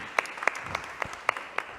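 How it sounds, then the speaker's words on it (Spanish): An audience applauds at a book presentation event, steady clapping with several sharper claps standing out, moderately distant and continuous throughout. "Un fuerte aplauso."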